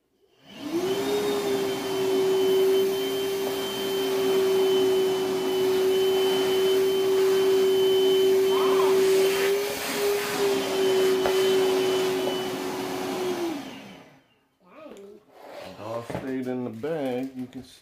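A Milwaukee wet/dry shop vacuum fitted with a fleece dust bag roars steadily and loudly for about fourteen seconds with a constant motor whine, then shuts off and a voice starts talking.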